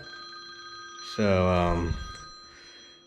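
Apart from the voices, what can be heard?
telephone ringing with incoming call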